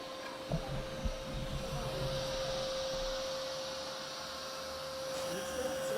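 A Narwal Freo Z10 robot vacuum runs at super powerful suction, giving a steady, moderately loud whirring drone with a constant tonal hum, plus a few faint bumps early on.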